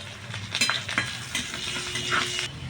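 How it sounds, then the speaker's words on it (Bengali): Chopped garlic sizzles in hot oil with panch phoron and dried red chilli, a steady close crackle with a few stirring scrapes and clinks against the pan. "এদিকে রসুনটা ভাজা হয়ে গেছে"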